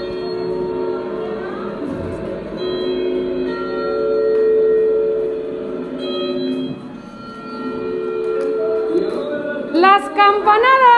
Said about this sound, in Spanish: ¡Las campanadas!